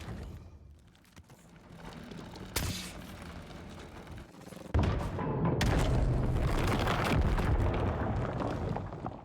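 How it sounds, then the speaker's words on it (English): A grenade launcher in the game Scorn fires with sharp booms, first a short blast and then a bigger explosive hit that swells into a sustained, loud rumbling roar. "Now I am one with my grenade launcher."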